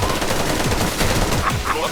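Rapid, loud bursts of automatic gunfire fill an online shooter match in the game Special Force 2, with shots crackling continuously at close range.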